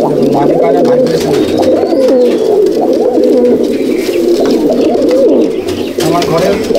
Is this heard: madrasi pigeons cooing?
yes